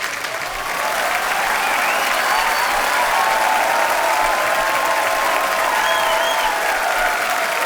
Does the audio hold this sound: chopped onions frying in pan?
no